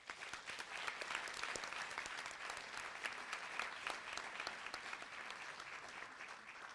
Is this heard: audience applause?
yes